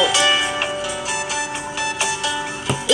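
A ringtone plays loudly on a Samsung Galaxy S7 phone as a bright chiming melody of quick repeated notes, alone and without speech.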